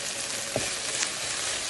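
Okra and potato frying with onion and green chilli in a pan, a continuous close, bright sizzle with no talk.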